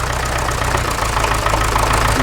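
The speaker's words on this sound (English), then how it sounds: "Quite good as well for a cold engine." A cold Massey Ferguson MF35 tractor engine runs loud and close, a steady rough chugging idle with a knocking low-end pulse throughout, no talking.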